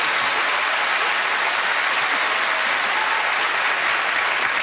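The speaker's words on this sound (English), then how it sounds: "we'll have a round of applause from our audience" A studio audience at a quiz-show recording breaks into steady, dense applause that stays loud and even throughout, many hands clapping at once with no talk over it.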